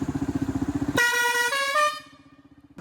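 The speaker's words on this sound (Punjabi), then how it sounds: "ਹੁਣ ਸਾਨੂੰ ਹੌਰਨ ਮਾਰ ਕੇ ਦਿਖਾਉਣੇ ਆ" A blaring multi-tone truck air horn fitted on a motorcycle sounds for about a second, cutting in over the rapidly puttering motorcycle engine that continues underneath.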